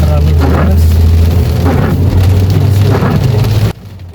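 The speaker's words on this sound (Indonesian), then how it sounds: "Tapi alhamdulillah hujannya nggak terlalu deras." Light rain patters on a car driving through a dark teak forest at dusk, with a steady low engine and road rumble and a voice talking over it, until the sound drops away sharply near the end.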